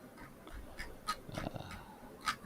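A dog makes a few short, soft snorts, whimpers and breathy sounds close by, irregular and quiet over a low background.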